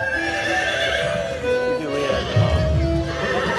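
A horse neighs in a long, loud, wavering whinny lasting several seconds, close up, with a soft thud or hoof sound partway through.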